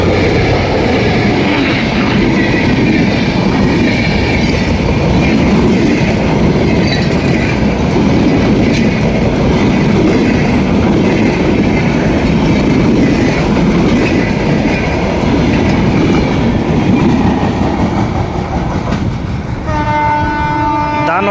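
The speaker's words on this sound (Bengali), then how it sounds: "এক্সপ্রেস এইমাত্র ঢাকার কমলাপুর থেকে দানবীয় গতিতে ছুটে আসছে রাজশাহীর উদ্দেশ্যে।" The Madhumati intercity express races past at high speed on its run toward Rajshahi, a loud sustained roar of wheels and carriages with rhythmic clatter, ending with a blaring multi-tone horn as it goes by.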